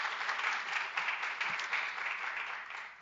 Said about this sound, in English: Big round of applause, Sapita Razavi.